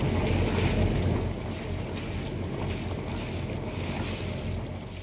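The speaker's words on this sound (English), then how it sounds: "Just trying to melt the ice with the prop wash so we can get out." A sailboat's propeller wash churning the water to melt surrounding ice in a cold harbor: a steady low rumbling churn with broad washing noise and some wind, fairly constant throughout and free of speech.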